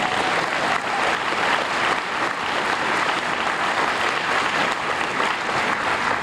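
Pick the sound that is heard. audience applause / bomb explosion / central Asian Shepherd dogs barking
audience applause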